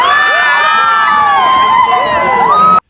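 A large, dense crowd at a village fair (yatra) ride in Surgana, with children shouting, whooping and cheering continuously, close and loud, and many overlapping voices filling the scene until it cuts off abruptly.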